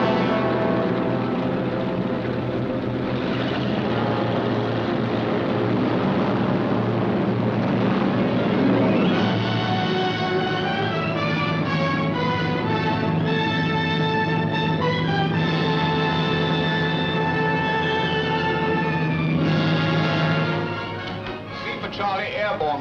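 British bombers in a wartime film drone loudly and steadily, propeller engines giving a thick continuous roar whose pitch climbs and layers midway, then eases off slightly near the end.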